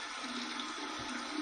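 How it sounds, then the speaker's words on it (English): Cold tap water runs steadily for shaving, a continuous close hiss and splash with no talk over it. "That's cold water right there."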